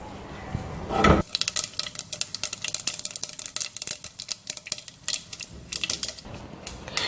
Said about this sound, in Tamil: கடுகு நல்லா பொரிஞ்சிருச்சுங்க.